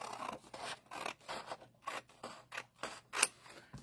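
Scissors cut through card paper for a handmade card in a quick, regular run of about eight close snips, each a short crisp rasp, with no talking.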